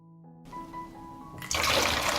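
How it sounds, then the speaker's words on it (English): Water poured into a bottle holding natural fertilizer, a quiet trickle building into a louder, steady gushing fill, close and alone. "I add 1 liter of water."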